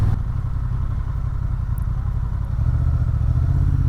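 A 2024 Honda Transalp 750 rolls along at walking pace around 10 km/h, its engine giving a steady low, close rumble with light mechanical clatter and no voices.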